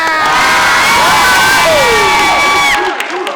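A high school show audience cheers and shouts loudly, with high-pitched voices and whoops rising over a dense crowd roar that eases off near the end.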